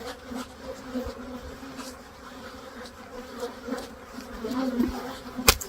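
Honeybees drone steadily around an opened hive during an inspection of neglected colonies with a varroa mite infestation, a continuous close buzz swelling slightly toward the end with a sharp knock near the finish.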